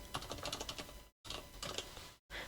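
Rapid typing on a computer keyboard while entering text in PowerPoint 2016, a close, busy patter of key clicks in two bursts separated by brief silences, with no voices.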